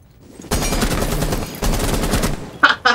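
Rapid automatic gunfire rattles in Rainbow Six Siege in two close, loud bursts of dense shots, followed by a few sharp single reports at the end.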